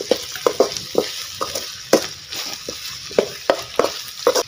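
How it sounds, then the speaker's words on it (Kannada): Ginger garlic paste frying with masala for egg pepper masala, a soft sizzle broken by repeated sharp scraping stirs of a spoon in the pan, close and moderately quiet, no talk. "ಚೆನ್ನಾಗಿ ಇದರ ಜೊತೆ ಮಿಕ್ಸ್ ಮಾಡ್ಕೊಳ್ಳಿ, ಇದರ ಹಸಿ ವಾಸನೆಲ್ಲ ಹೋಗಲಿ, ಅಷ್ಟರ ತನಕ ನೀವು ಇದನ್ನು ಫ್ರೈ ಮಾಡ್ಕೊಳ್ಳಿ."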